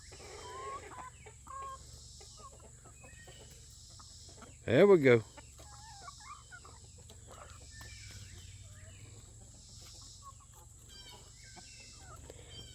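Chickens cluck softly and intermittently while pecking at tomato hornworms in a garden, with a brief loud squawk in the middle; someone speaks briefly near the start over faint cricket chirping.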